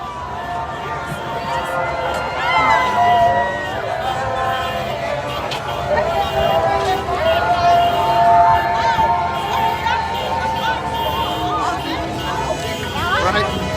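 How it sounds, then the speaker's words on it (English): A large outdoor crowd of roughly a thousand people gathers at a Trump rally in Beverly Hills, a continuous babble of chatter and shouting voices with occasional cheers, heard from within the throng. "it's an enormous crowd for Beverly Hills"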